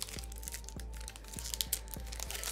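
A Yu-Gi-Oh Rising Rampage card pack wrapper being torn open, with close crinkly foil rustling and several small sharp tearing snaps over a couple of seconds, and no voices.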